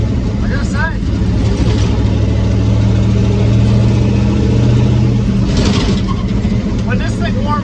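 A rat rod with a rusty-block 5.3 LS engine of about 8.6:1 compression drives with a steady, loud engine rumble and road drone. Someone talks over it the whole time.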